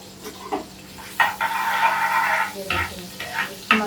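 Garnish ingredients fry in a pan before chana dal is added, a close, loud sizzle interrupted by stirring clatters and sharp scrapes.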